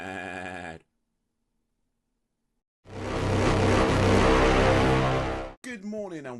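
A goat in the video game Goat Simulator lets out a short, harsh bleat, followed by silence and then a loud burst of noise, and a wavering bleat-like cry closes the clip.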